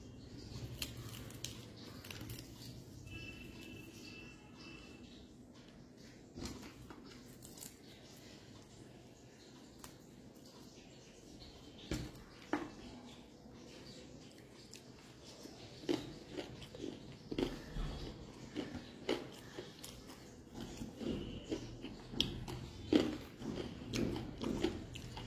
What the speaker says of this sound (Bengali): প্রথমেই ফ্রেন্ডস আমি একটু লোটে মাছের পকোড়া দিয়ে জমিয়ে খাই